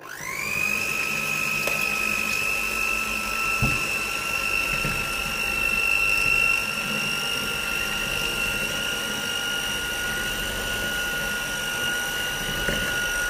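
An electric mixer runs steadily at medium speed, beating egg whites with a pinch of salt for raspberry macarons, a loud sustained whine with a high motor hum and occasional faint knocks against the bowl.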